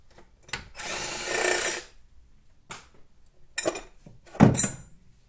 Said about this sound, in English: Once you get it there, just unbolt it.